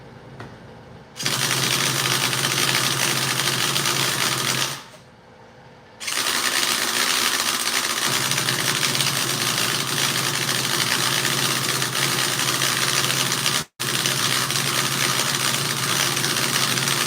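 A small RC model nitro engine starts and runs at a high, buzzy idle, cutting out briefly, restarting and buzzing on steadily with one sudden momentary drop near the end.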